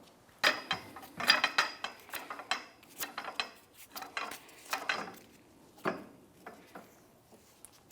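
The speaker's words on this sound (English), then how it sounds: "I'm going to put my jack underneath the knuckle here, raise it up slightly" Scissor-style car jack cranked under the rear knuckle of a 2008-2013 Nissan Rogue, giving a series of close, irregular metallic clicks and ratcheting rattles over about eight seconds, with no talk.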